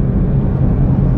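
An Audi A4 2.0 turbo pulls hard under acceleration, a loud, dense low engine roar heard from inside the cabin, steady over a short stretch.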